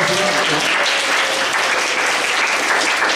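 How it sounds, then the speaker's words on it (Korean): Steady, dense applause from a young adults' congregation at a Sunday worship service in Auckland, filling the space evenly from start to finish with no clear speech on top. "두 분에게 다시 한 번 더 박수 부탁드립니다"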